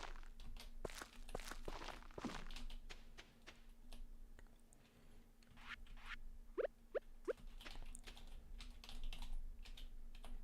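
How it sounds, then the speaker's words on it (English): Computer keyboard clacking during Stardew Valley play, a near, continuous run of quick uneven key taps with a few louder isolated clicks, steady under quiet background music. "I need to get a quiet keyboard as well, because I imagine you can hear a lot of clacking on my end."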